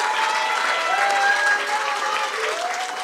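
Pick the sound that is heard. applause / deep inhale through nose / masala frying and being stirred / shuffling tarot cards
applause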